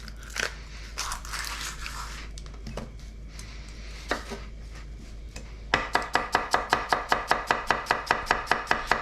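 A kitchen knife slicing a very large onion pole to pole on a cutting board, a fast, steady run of about fifteen crisp, close chops after some scattered handling noises, with no talk.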